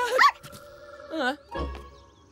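A cartoon dog barks and yelps in a few quick bursts, close and fairly loud, with a low rumble at the end and no clear speech.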